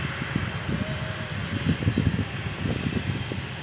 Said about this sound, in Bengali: এই যে এখন আরেকটা প্লেন ল্যান্ড হবে